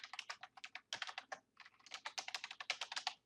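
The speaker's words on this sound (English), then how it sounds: "All I have to do here is type in my name." A name is typed on a computer keyboard in a quiet office setting, with quick clicking keystrokes in uneven bursts, close and crisp, pausing briefly before the typing continues.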